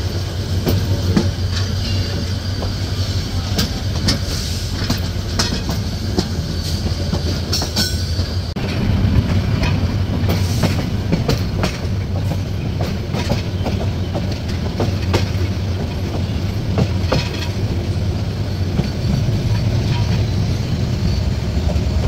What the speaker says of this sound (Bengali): নির্ধারিত সময় থেকে মাত্র 1 মিনিট বিলম্বে ট্রেনটি ছেড়ে যাচ্ছে বন্দরনগরী